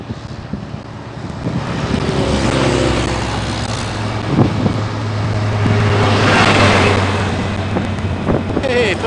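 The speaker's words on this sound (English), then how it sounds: "I'm hoping you guys can hear me over the noise of the traffic." Street traffic on a morning walk in Mandaue rumbles loudly and continuously, with passing vehicles swelling and fading and wind buffeting the microphone.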